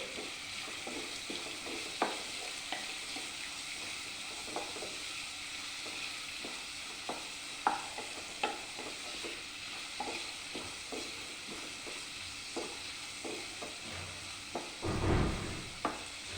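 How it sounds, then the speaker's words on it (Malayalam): Onions sauté in a pan under a soft continuous sizzle, punctuated by frequent light clicks and scrapes of stirring, with one louder clatter near the end, close and without voices. "സവാള നല്ലതുപോലെ വഴറ്റിയെടുക്കാം"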